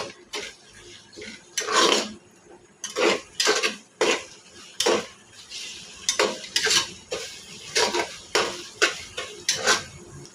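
Chicken curry being stirred in a pot with a spoon, a run of broad scraping strokes roughly every second, close and fairly loud, with faint sizzling beneath and no voices.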